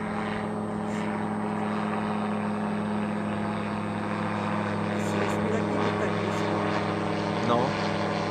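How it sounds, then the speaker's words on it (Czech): Private helicopter flying overhead, a steady droning rotor and engine hum throughout, moderately loud and constant, with people talking faintly in the background. "To je soukromý vrtulník."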